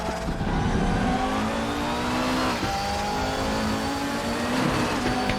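Canhard R52 race car at RaceRoom Raceway Classic in the RaceRoom video game, its engine droning steadily and near with shifting revs and a brief dip mid-run, no voices.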